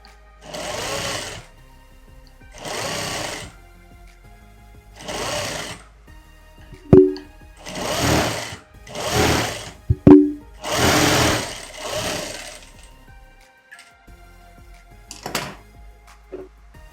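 A sewing machine stitches the sleeves of a girl's skirt-and-shirt outfit in repeated short bursts of loud, close whirring, separated by pauses and a couple of sharp clicks, with no voices.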